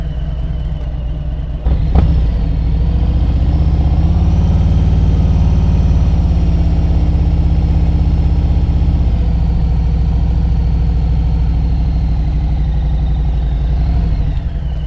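Deep, unbroken drone of a Harley Davidson touring motorcycle engine ridden slowly through low-speed practice in Florida, loud and close, with a brief sharp click near the start and no talking.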